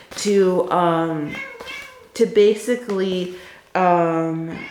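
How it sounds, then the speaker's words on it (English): A pet cat meows several times in clear, close, drawn-out cries with brief pauses between them, while a person speaks a few words in the background. "That's my cat meowing."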